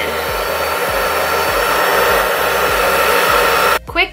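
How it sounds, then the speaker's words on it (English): A hair dryer blows with a steady, loud whoosh at close range for several seconds before it cuts off abruptly near the end. "A hair dryer was not listed as one of the things that you needed."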